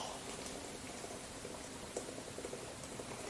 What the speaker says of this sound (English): put your pot on the heat, and pour the boiling water directly into the pot